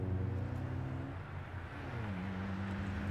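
A car being driven hums steadily with a low, even engine drone and slight pitch shifts, fairly faint and constant throughout, with no voices.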